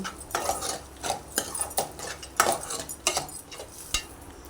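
A metal spoon scrapes and clanks against a pot in repeated strokes, stirring a thick curry at close range with no talking.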